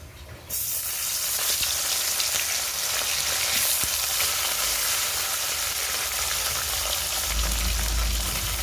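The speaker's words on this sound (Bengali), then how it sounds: "কড়াইয়ে দিয়ে দিছি সরিষার তেল মাছগুলো আমি এখন বেজে নেব" Bhola sea fish, rubbed with salt and turmeric, frying in mustard oil in a wok, with a loud, steady crackling sizzle that starts abruptly and holds throughout, close up and with no talking.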